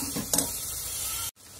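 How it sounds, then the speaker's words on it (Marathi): Onion paste and coriander paste are stirred in a hot pan. A short burst of spatula scrapes rides over a steady sizzle, which cuts off abruptly just before the end. "तर हे आपण छान असं मिक्स करून घेऊया."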